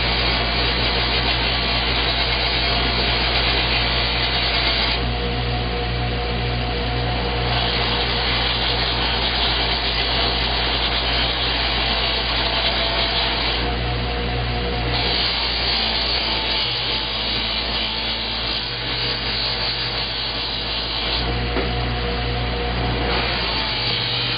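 A buffing wheel polishes an assembled metal part for a hydro reservoir build. The machine hums and whirs loudly and continuously, with a steady motor drone and periodic shifts in the grinding friction as the part is worked.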